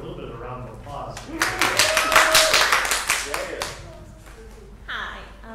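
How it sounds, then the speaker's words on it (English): A small in-person audience gives a short round of clapping for a nurse speaker at a hypertension talk, a burst of hand claps swelling and fading within a few seconds, with voices speaking around it. "give her a little bit of a round of applause"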